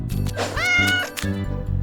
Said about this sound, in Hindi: ये तो प्यारी सी बिल्ली है